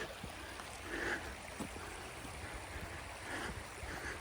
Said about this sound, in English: There's this little stream, and this winds around and goes into the Conneaut Creek.